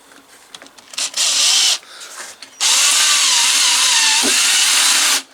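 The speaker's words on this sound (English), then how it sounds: "Screw it into where the rivet originally was." A power driver sends a metal self-tapping screw into an old rivet hole in a metal side pole. Two close, loud whirring bursts are heard, a short one and then a longer one that ends with a dip as the screw seats.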